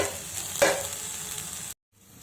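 Chopped ivy gourd pieces fry in a hot pan with a close, steady sizzle and a sharp burst of spattering early on, then cut off abruptly into near silence.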